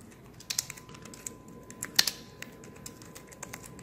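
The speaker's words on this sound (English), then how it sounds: "I'm gonna put the phone right here, and I'm just gonna type" Typing on a compact Nulaxy wireless keyboard, light clicky keystrokes tapping in an uneven run at close range, fairly quiet, with no talk.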